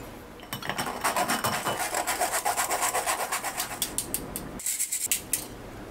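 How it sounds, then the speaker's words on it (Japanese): Flour and potato starch shaken through a strainer into crushed breadcrumbs for a fried chicken coating: a quick, regular rasping rhythm of mesh rubbing, close and fairly loud, pausing briefly near the end, no speech. "塊があるのでね、ざるでふるって入れますよ"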